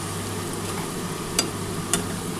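Potatoes and onions frying in oil for a Bhola fish curry, stirred in the pan, with a steady low sizzle and two brief sharp scrapes of the spoon against the pan.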